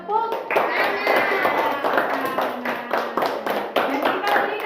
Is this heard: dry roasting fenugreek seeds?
no